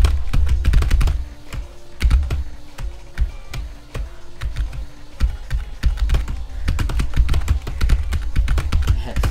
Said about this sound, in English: Here's the keys on my keyboard, because of how loud they are.